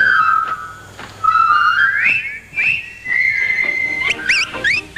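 A person whistles a melody solo, clear tonal notes gliding and rising in pitch across several phrases, with quick trilled flourishes near the end and no talking.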